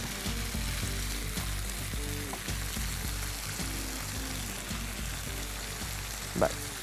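Fresh coriander leaves sauté in a hot pan with a dense, continuous sizzle and soft stirring, plus one brief sharper clink near the end.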